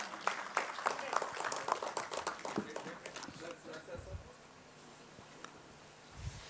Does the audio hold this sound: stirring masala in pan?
no